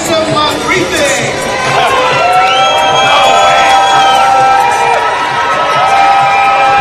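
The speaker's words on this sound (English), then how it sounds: "Let's hear you guys make some noise" Loud arena crowd at a college hockey game cheering, whooping and shouting continuously, with children's shrieks and rising excitement throughout, dense and sustained.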